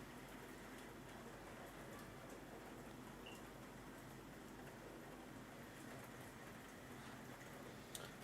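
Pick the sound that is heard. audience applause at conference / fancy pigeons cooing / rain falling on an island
rain falling on an island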